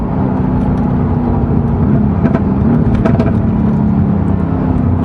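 A Mercedes-AMG GT S pulls hard on a straight stretch of road near Genting, a loud steady engine roar with rising whir and revving from inside or close by, with no talking.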